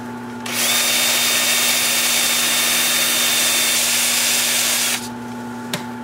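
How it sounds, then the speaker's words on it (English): A power drill spins a 2-inch sanding disc against a turned wooden salt cellar, giving a loud, steady whirring drone that runs for about four seconds before cutting off. "I'm just going to use my 2-inch disc starting at 150 grit, and I'll sand up through 400"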